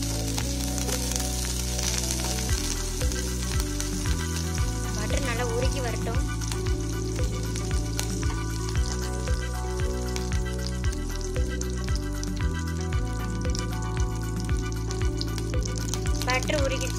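Butter sizzles and melts in a pan for paneer butter masala, a steady, soft crackle heard close up and fairly faint, with occasional stirring and a voice now and then.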